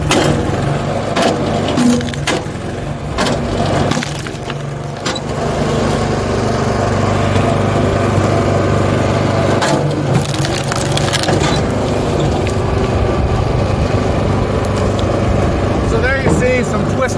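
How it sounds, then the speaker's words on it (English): A Super Splitter log splitter works through twisted-grain firewood, loud and close, over a constant engine drone. Repeated cracking, splintering and crushing wood sounds sit on top of it. Some talk can be heard over the machinery. "Twisted grain, super splitter goes through it."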